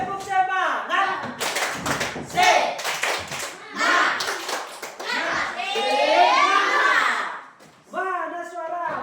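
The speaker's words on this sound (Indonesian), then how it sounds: "Tepuk semangat" A group of children claps a quick rhythmic pattern in unison, broken up by loud shouted chanting.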